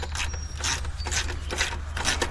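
A torque wrench tightens valve cover gasket bolts on a Kia Soul engine, giving a close, quick series of light ratcheting clicks and mechanical ticks over a low steady hum.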